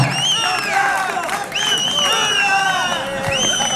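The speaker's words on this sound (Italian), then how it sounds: "Un applauso per Luca Messina," A crowd applauds and cheers for the best goalkeeper of a local football tournament, steady clapping mixed with whoops and raised voices, close and loud throughout.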